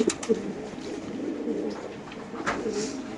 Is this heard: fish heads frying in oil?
no